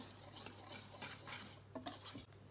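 Muffin batter with baking powder being mixed in a bowl, a utensil scraping and clinking against the sides in quick irregular strokes, close and clear with no talking.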